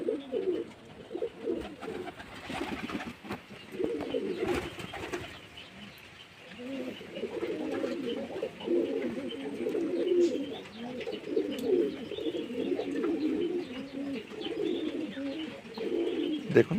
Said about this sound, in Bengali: পায়রাগুলো বাড়ির মাথায় এসে গেছে